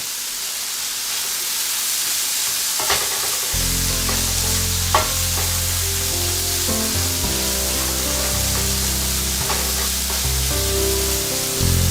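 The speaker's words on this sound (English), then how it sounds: "so here we are, sauteing everything, and I need to cook this down a little bit" Leftover vegetables sauté in a hot pan, giving a steady sizzle with occasional stirring scrapes, joined partway through by a low, sustained tonal hum underneath.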